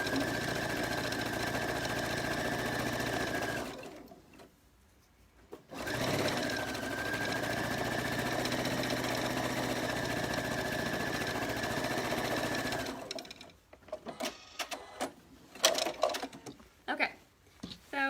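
A sewing machine runs a straight stitch to hem a children's t-shirt dress, with a steady mechanical whir in two long bursts separated by a brief pause, followed by scattered handling clicks and rustles.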